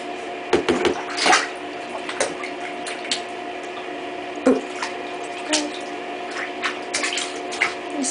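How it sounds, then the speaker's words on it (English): Water splashes and drips at a baby's bath in a tub, with scattered close wet splashes and squishy sloshes over a steady faint hum. "Splash of water."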